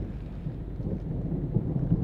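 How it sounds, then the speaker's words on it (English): Thunder rolls during a storm outdoors near a junkyard, a deep, continuous low rumble swelling and fading, with steady rainfall hiss underneath and no voices. "it is thundering like crazy out here"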